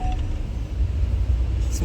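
Road vehicles pass by as a baby watches during a trip from Karad to Thane, heard as a steady low rumble of traffic.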